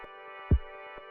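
Sustained synth chord in an electronic music production, with a steady tonal pad holding through and faint low thumps, one louder low hit near the middle, no voices.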